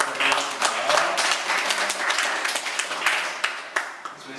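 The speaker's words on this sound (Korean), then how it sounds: "너무 수고하셨다고 감사의 박수 드리겠습니다." A church youth congregation gives a round of applause, uneven clapping from a modest group in a hall, a few sharper individual claps standing out before it fades toward the end.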